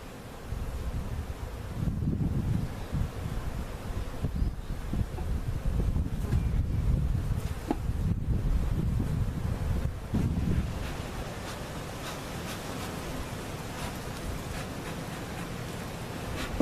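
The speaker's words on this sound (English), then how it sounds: "Pretty windy day. That's normal for Oklahoma. Springtime, 30-mile-an-hour wind." Strong spring wind gusts buffet the microphone on an Oklahoma day, a loud low rumbling roar that surges in gusts for about ten seconds, then eases to a softer steady blow.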